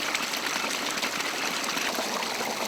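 Water-powered prayer wheels in the Zanskar valley sit in steadily flowing water, which gives a continuous close rushing and gurgling with no pauses.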